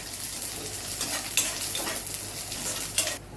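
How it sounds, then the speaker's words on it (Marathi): Chopped onion, ginger and garlic sauté in a pan with a soft, continuous sizzle, broken by the scrape and clink of a spoon stirring against the metal; close and steady, with no talking. "कांदा, आलं आणि लसूण परतून झाले"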